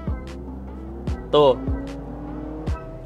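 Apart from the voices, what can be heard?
simulated engine revving sound from Honda CR-V Hybrid speakers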